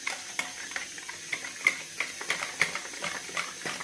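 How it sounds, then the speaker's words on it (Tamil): Mysore pak batter is stirred in a bowl to break up lumps, a soft, close, rhythmic series of utensil clicks and wet swishes repeating about every third of a second. "நல்லா கலக்கி விடணும்"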